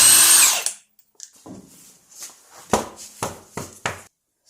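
A power tool, likely an impact gun, works the 19 mm brake caliper bolts on a Jeep TJ front axle in short, sharp bursts after a brief whine, with clanks and pauses between them.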